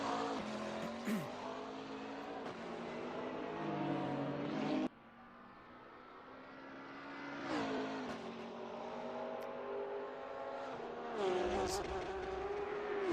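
GT3 race cars, including a Porsche, lapping Bathurst in a sim racing game, engines revving and shifting with tire squeal as they pass close, and a commentator talking over them.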